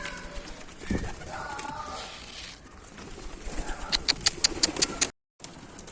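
A Kara Baska pigeon flaps its wings in a few quick bursts of sharp claps near the end, following soft cooing and rustling, with a brief dropout just after.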